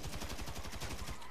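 Rapid machine-gun fire in GTA 5 Online during a desert shootout, a steady stream of evenly spaced shots, loud and close, with no pauses.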